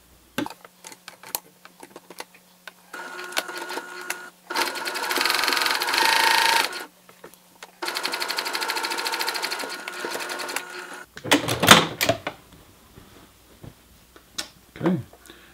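A sewing machine stitches a T-shirt seam from edge to shoulder in two steady bursts of a few seconds each, close up, with clicks and fabric handling around them.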